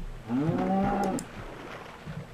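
A single drawn-out cow moo from the video game Minecraft rises and holds for about a second, then gives way to quiet background.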